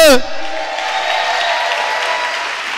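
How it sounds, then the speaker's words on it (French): A church congregation applauds and cheers in a hall, a dense, loud, steady wash of clapping and voices following a brief spoken prompt at the start. "Je veux entendre les célibataires acclamer son Dieu."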